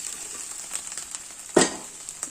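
Banana and cowpea thoran being stirred in a pan gives a steady low frying sizzle, with one sharper scrape or clack of the spoon midway and faint stirring scuffs around it.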